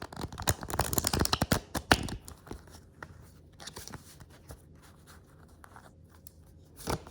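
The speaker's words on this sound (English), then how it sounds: "Let's shuffle some cards." Quick bursts of crisp riffling and flicking as tarot cards are shuffled, followed by quieter scattered taps and soft handling sounds.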